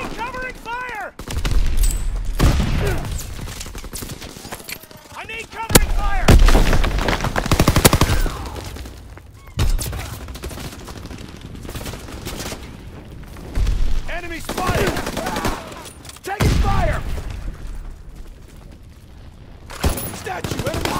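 Gunfire from the Call of Duty WW2 video game: loud bursts of rifle and machine-gun fire with booming blasts, repeated across the clip and mixed with shouted voices.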